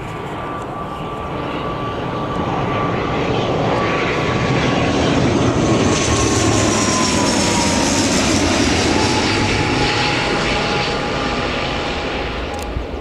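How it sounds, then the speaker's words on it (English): A British Airways Airbus A320 arriving at Newcastle Airport, its engine roar swelling steadily from distant to near and holding loud and broad across the whole stretch, with a faint high whine sliding slowly overhead and no talk. "that'll be an A320 coming in from London Heathrow"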